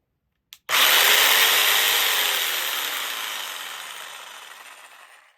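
Bosch jigsaw set to straight up-and-down stroke cutting through wood: a sharp start, then one steady, loud buzzing rasp of the blade that slowly fades over about five seconds, close up with no voices.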